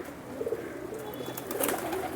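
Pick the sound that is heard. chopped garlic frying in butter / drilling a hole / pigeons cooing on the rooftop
pigeons cooing on the rooftop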